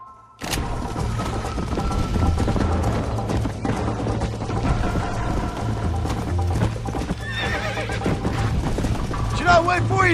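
Galloping horse in the Red Dead Redemption video game, a loud steady clip-clop of hooves running the whole time, with a whinny near the end, game music and spoken lines mixed in.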